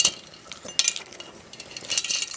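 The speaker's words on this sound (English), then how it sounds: "I'm going to stir this a little bit" Molten lead and tin stirred in a metal pot, with irregular scraping and metallic clinks of the stirring tool against the pot, close and fairly loud, no speech.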